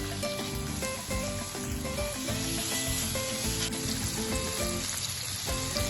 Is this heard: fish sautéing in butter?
yes